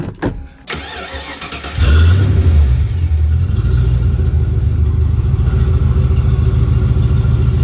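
A turbocharged Ford Mustang Foxbody starts with a few sharp clicks, then its engine catches and settles into a loud, steady, rumbling run with slight revving, close by and with no talking.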